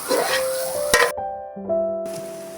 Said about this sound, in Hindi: इसको शिमला मिर्च डाल के 1 मिनट के लिए और पका लें